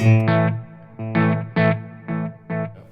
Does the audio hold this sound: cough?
no